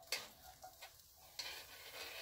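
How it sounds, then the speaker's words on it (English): Chopped onion hitting hot bacon grease in a Lodge cast iron Dutch oven, giving faint, brief crackles and a soft sizzle with a few light clicks, heard alone. "I saved a little bit of bacon grease. So I'm going to throw one chopped up onion in."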